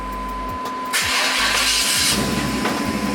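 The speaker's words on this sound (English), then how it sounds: "lock, unlock, and then we got remote start. Vehicle turns on." A car engine cranks and catches after a remote-start command, with short chirps before the starter turns over and then a steady, close idle running to the end, no one talking.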